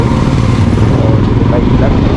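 Royal Enfield motorcycles roll out together on a group ride, engines rumbling in a steady, loud low drone throughout, with wind buffeting close to the microphone.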